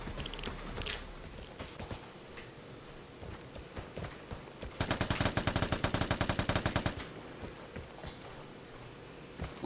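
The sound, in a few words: gunfire in video game Vigor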